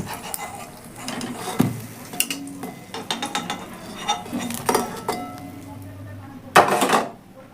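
Eggplant slices frying in oil in a pan, a soft sizzle broken by clinks and scrapes of a utensil against the pan, close by, with brief voice sounds at times.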